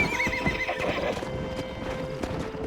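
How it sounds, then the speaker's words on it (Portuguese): Horses gallop and neigh in the Western video game Red Dead Redemption. Hoofbeats clatter steadily at moderate volume, with whinnies layered over them. "Os caras indo embora lá com os cavalos."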